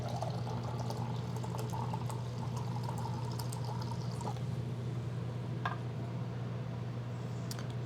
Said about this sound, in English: you can measure out your water. And I'm going to use about 240 grams here.